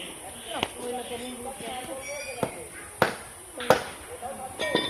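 Sharp knife chops into a green coconut at a roadside stall, several distinct hard strikes spaced irregularly, with people talking around them.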